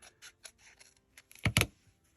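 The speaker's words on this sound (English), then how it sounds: "we're going to go ahead and cut this a little shorter" Scissors snip through a paper journaling card, a few faint clicks of handling followed by two crisp, close cuts in quick succession, no voices.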